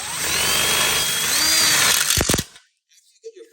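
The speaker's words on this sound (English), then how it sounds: "we're gonna lock it in with a screw down here at the bottom" A power driver whines steadily for about two seconds, driving a self-tapping screw into a metal ConnecTube outdoor kitchen frame, then stops with a short clatter, followed by quiet.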